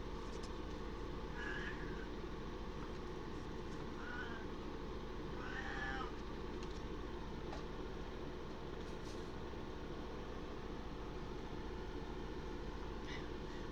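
A house cat meows several times, faint and spaced a few seconds apart, over a steady low background hum.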